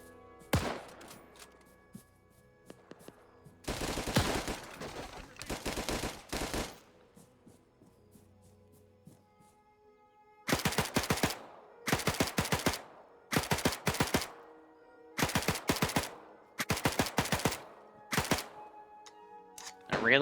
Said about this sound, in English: I'm just going to take a few magazines and shoot him in the back